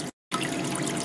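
Water flowing steadily through a Blue Bowl gold concentrator, a continuous close hiss and trickle, briefly cut off to silence near the start before resuming.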